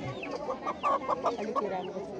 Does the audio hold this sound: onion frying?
no